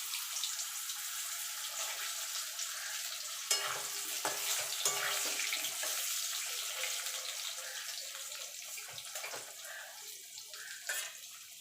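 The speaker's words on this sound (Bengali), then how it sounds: "এই তেলে আমি আলুটা ভেজে নেব।" Potatoes frying in oil left over from frying boal fish, a continuous bright sizzle with a few sharp utensil clicks and scrapes against the pan, close and steady throughout.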